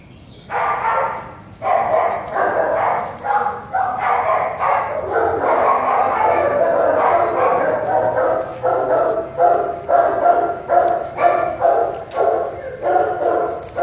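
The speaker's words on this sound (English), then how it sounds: "the black dog is Tootie, and the white one is Loretta Lynn." Two dogs, one black and one white, bark and yip excitedly in quick, overlapping bursts, close and loud, continuing almost nonstop.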